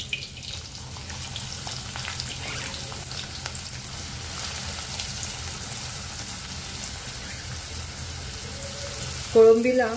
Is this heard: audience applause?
no